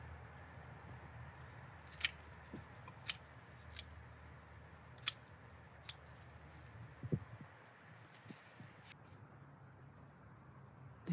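Shears snipping the stems of a lavender plant in a garden, sparse crisp cuts spaced a second or so apart, quiet and close against faint outdoor background.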